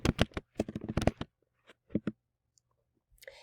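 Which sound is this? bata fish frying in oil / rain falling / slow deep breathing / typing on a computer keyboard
typing on a computer keyboard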